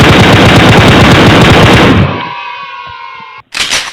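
Shotgun gunfire in the PUBG video game: a loud, dense burst of blasts that cuts off into a ringing decay, then a brief sharp report at the end.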